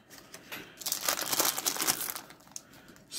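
Cellophane wrapper on a 1989 Fleer baseball card rack pack crinkles loudly up close in a dense burst of crackling, then tapers off.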